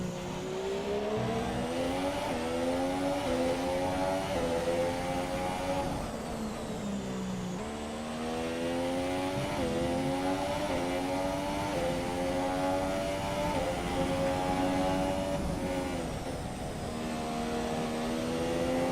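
Formula 1 race car in the F1 video game on a qualifying lap at Baku on soft tyres, a loud continuous engine drone rising in pitch through the gears with brief dips at shifts and braking, steady and close throughout.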